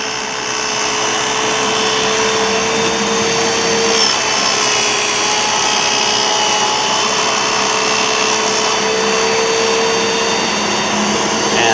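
A shop vacuum roars loud and steady at close range while a router trims the edge of a plywood sheet, the cutting adding a rough grinding texture throughout.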